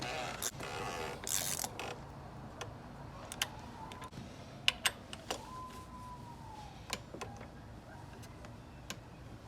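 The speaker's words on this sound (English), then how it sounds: "Use a regular ratchet first." A ratchet tightening the oil filter housing cap on a 2011–2016 BMW Z4 E89 with the N20 engine, scattered sharp clicks and creaks among faint mechanical rattles in a quiet garage.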